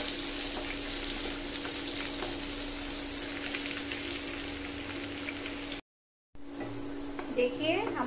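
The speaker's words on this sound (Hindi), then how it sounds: "कटे हुए ऑनियन को डालकर हम लोग गोल्डन कलर आने तक इसे फ्राई कर लेंगे।" Chopped onions fry in a pan for a home-style baigan palak, a steady broadband sizzle with a constant hum underneath, briefly cut off near the end before the sizzle returns.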